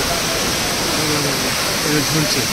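Kanchenjunga Waterfall at Pelling, Sikkim, a dense, unbroken roar of falling water, loud and steady throughout, with faint voices partly buried beneath it.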